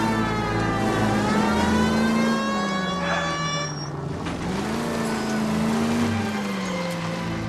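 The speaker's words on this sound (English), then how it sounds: "Put my siren on." A wailing police car siren in the video game L.A. Noire, rising and falling steadily over a running car engine, loud and close for the whole stretch.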